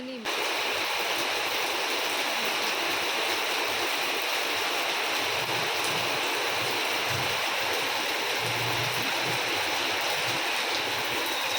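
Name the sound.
heavy rain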